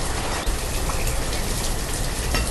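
Steady rain pours down in the video game Banished, a dense unbroken hiss filling the whole moment with no voices.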